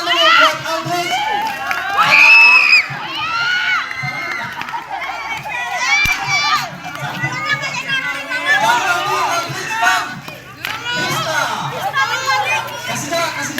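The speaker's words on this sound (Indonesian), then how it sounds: "Kasih tepuk tangan dulu buat Aldris." Students at a school true-or-false game competition cheer, shout and clap in a lively, loud crowd of children's voices, with a presenter's voice briefly audible among the excited babble.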